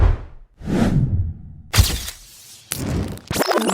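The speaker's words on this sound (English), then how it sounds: "Transition sound effects." Transition sound effects arrive as several loud, close whooshes and swishes, some ending in sharp cracking hits, each sweeping in quickly with brief gaps between them and no talking.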